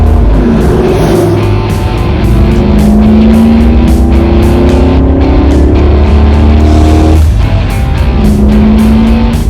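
A Holden VN Calais with a 5.0L V8 engine running, loud and close, a steady deep rumble with rising and falling revs and one sharp gear change near the end, no talk.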